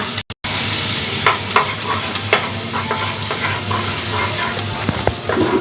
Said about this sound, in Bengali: কড়াই গরম হয়ে গেছে, আমি কড়াইতে এখন এখানে বাটার দিয়ে দিচ্ছি।